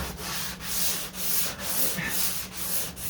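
Sanding on the hood of a 1969 Corvette C3 during body work, a steady scratchy abrasive rub in repeated back-and-forth strokes with slight dips between passes, close and alone.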